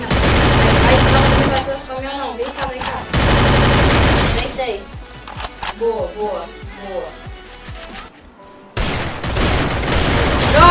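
Loud, dense gunfire from the Free Fire video game comes in rapid bursts with short gaps, while excited players talk over the shooting.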